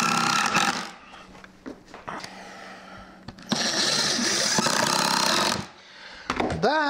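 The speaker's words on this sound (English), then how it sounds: "probably put an inch and a half screws in, and I'll put them down a little wee bit of an angle into that piece underneath." Power driver sinking inch-and-a-half screws at an angle into a wooden floor frame, in loud whirring bursts with quieter gaps between them and a final short whine, up close.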